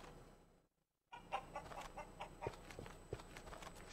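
Chicken clucking on a farm in the medieval game Ludus, short repeated clucks and squawks over steady ambient noise after a brief silent gap, fairly close.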